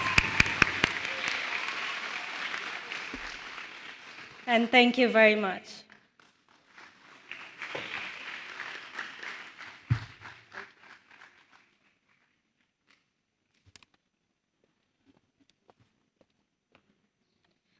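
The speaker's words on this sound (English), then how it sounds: "Give them a round of applause." An audience applauds Year 6 graduates at a school graduation ceremony, the clapping loud and dense at first, then thinning and fading as a speaker talks over it and the hall falls quiet.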